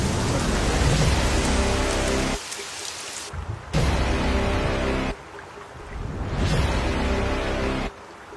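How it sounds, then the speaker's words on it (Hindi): Heavy rain pours down steadily as a loud, dense broadband roar, with abrupt drops and swells in intensity through the clip and no voices. "बारिश बहुत ज्यादा है"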